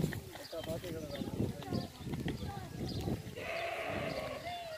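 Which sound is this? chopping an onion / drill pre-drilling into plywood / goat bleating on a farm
goat bleating on a farm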